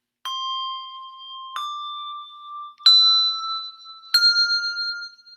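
Four handbells rung one after another, played four-in-hand in pairs of thirds with damping between strikes; each clear, ringing tone starts cleanly and is cut short before the next, rising in pitch across the sequence.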